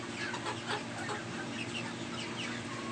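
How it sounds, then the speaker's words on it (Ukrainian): Chickens, including a very small decorative hen, cluck softly in a farmyard during a morning round, with repeated faint clucks over a steady broad background noise, fairly distant and quiet. "Я бачив ось цю курочку, вона зовсім маленька, ну це реально декоративна декоративна курочка"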